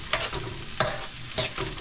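Chicken adobo being stirred in a pan, with a spoon scraping in three quick strokes over a soft, continuous sizzle of splattering oil.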